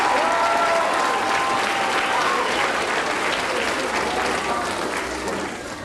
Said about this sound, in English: How about a round of applause for those that helped us draw